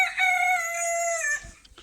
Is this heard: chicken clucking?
yes